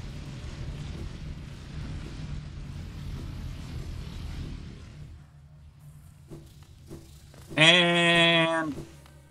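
Creatures from the game Hollow Knight give a loud rising whoosh with a bright tonal shimmer, like riding a jet stream, arriving abruptly near the end after a stretch of muffled rumbling ambience.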